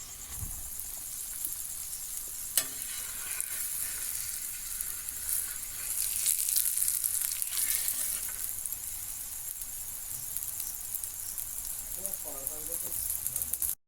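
Aloo paratha frying in oil in a pan, a constant bright hiss and sizzle filling the whole stretch, steady and fairly close, with faint kitchen clinks and a short rattle near the end.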